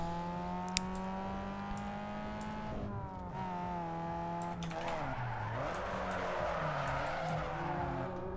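A car drifts in Need For Speed Underground 2, its engine droning steadily before a long rising tire squeal and skid take over, sustained and loud throughout.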